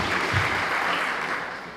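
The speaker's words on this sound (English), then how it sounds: "So we're delighted to applaud the new Wicomico Teacher of the Year, Tara Martens." An audience applauds at a teacher of the year ceremony, with dense, steady clapping that fills the room and eases off slightly toward the end.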